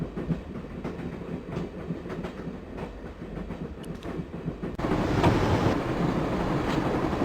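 A moving train in the adventure game Broken Sword rumbles with rhythmic clickety-clack wheel beats, growing louder and denser partway through as the rail noise intensifies.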